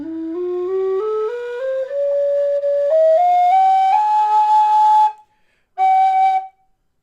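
A D whistle climbing the scale one note at a time in clean, bright steps, each tone held briefly and rising higher, then a pause and one last sustained high note, played alone and close.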